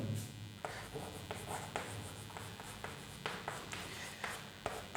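Chalk scraping across a classroom blackboard in short strokes during a chemistry lesson, fairly faint with soft taps between marks and a quiet room behind.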